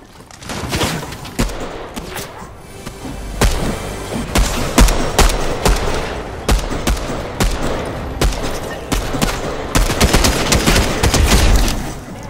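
Rapid bursts of Fortnite weapon fire crack out in clustered volleys throughout, loud and close, with dense overlapping shots and brief gaps between bursts.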